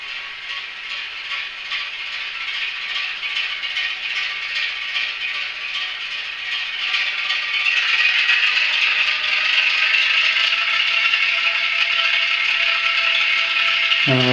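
A sound-fitted Graham Farish Class 08 diesel shunter model locomotive, faulty and not moving, is throttled up: a thin, tinny rattling engine drone holds steady, then grows louder about halfway through, with no talking.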